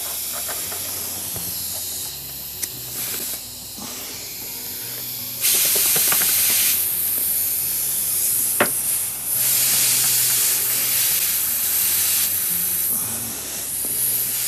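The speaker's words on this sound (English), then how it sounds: "I got air in the air compressor, so let's see if we can fill this thing up" An air compressor fills the front tire of a 1964 Honda 90 CT200 with a loud, close, continuous hiss of air. The hiss grows stronger partway through, with a few brief clicks and knocks of the chuck.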